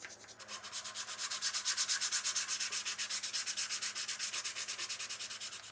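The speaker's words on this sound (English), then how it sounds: "Got everything sanded to where I want it." A small wire part is sanded by hand, with quick rhythmic back-and-forth rasping strokes that rise to a steady, even scratching pattern, close and alone.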